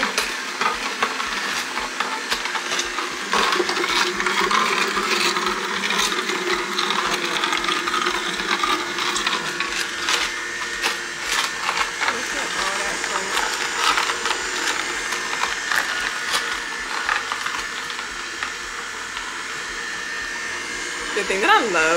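An electric juicer runs steadily, grinding and pressing fruit and vegetables for an immune-boosting juice, with a continuous whirring motor, gritty crunching and occasional rattles up close, and no talk over it.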